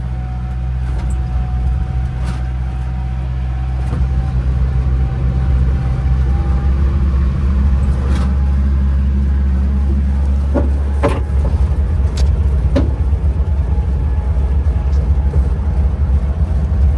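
A worn, heavily Bondo-filled Chevrolet Corvair rolls along in second gear, its rear engine producing a steady low rumble and drone from inside the cabin, with occasional light rattles and clicks and no talking.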